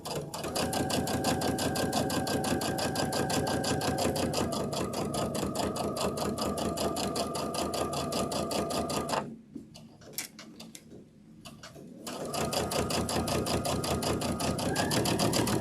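A large computerized sewing machine stitches a Thanksgiving table runner with a fast, even mechanical needle rhythm close by. It pauses for a few seconds, then resumes at the same steady pace.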